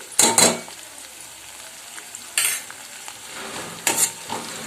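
Crushed garlic added to half-cooked onions in a frying pan, with a few sharp scraping stirs and clatters over a soft, steady sizzle, close and alone.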